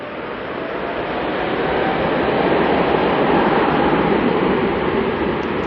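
Jet engines of a China Eastern airliner, a Boeing 777, roar steadily as it departs Auckland Airport, a broad continuous rumble that swells slightly and holds loud throughout with no talk.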